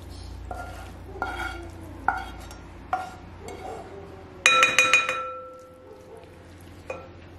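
Cooked onions scraped and spooned out of a pan into a wide bowl, with a string of light clinks and stirring scrapes, then a brighter ringing clatter of utensil against the bowl near the end, no voices.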